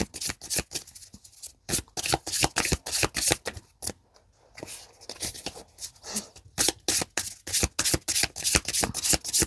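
A Belline oracle card deck being shuffled, loud close riffles and rapid card flutters repeating in quick bursts with brief pauses between, no voices.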